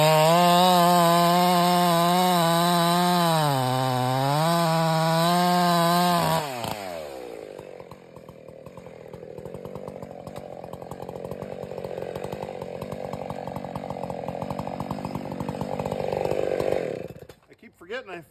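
A chainsaw bucks a felled tree into logs during horse logging: loud, close engine revving with wavering pitch, then a rougher, lower snarl as the chain bites through the wood for about ten seconds before cutting off abruptly.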